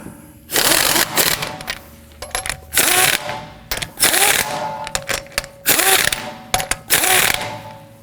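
A hand ratchet snugs down lug nuts on a 2018–2024 Toyota Camry, loud close bursts of rapid clicking that start and stop in repeated strokes, with short pauses between them.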